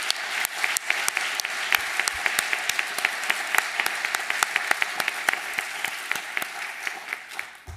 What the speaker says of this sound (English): How about one more round of applause for all of our recipients tonight?